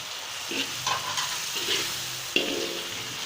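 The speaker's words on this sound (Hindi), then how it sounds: "मसाला तैयार है, इसे भून लिया हमने। ऐसे हम इसमें दाल ऐड करेंगे।" Mashed dal (urad) tipped into frying masala hisses and sizzles softly in the pan, with a few stirring scrapes and small pops coming through at close range.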